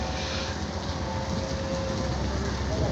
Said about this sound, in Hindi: बारिश हो रही है इस वक्त कराची शहर में।